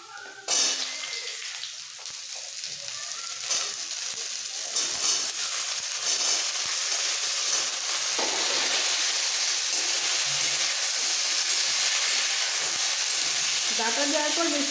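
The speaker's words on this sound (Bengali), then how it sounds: "আলু ভাজা হয়ে গেছে, হালকা কালার এসে গেছে। এই সময় দিয়ে দিচ্ছি ডাঁটাগুলো।" Sajne data drumsticks dropped into a pan of frying potatoes give a loud, steady oil sizzle that builds after a short splash and hisses continuously, with faint stirring.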